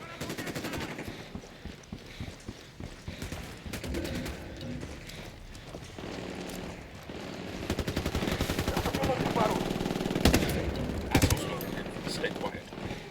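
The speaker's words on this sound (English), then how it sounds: "Open fire." Sustained rapid gunfire and overlapping shot bursts in the shooter game Ghost Recon Wildlands, loud and dense throughout with voices mixed in.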